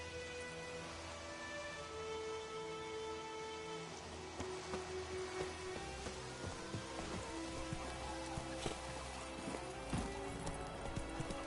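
Roach the horse trots in The Witcher 3 game, with a continuous rhythmic clip-clop of hooves at moderate distance over a soft tonal backdrop.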